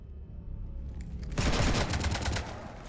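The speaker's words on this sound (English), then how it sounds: "You want to stop shooting up my ship?" Rapid gunfire in Mass Effect 3 rattles loudly as a ship is shot up, a dense burst of repeated shots following a quieter lead-in.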